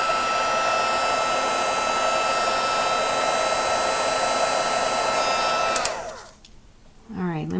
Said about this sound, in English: let me put the heat tool down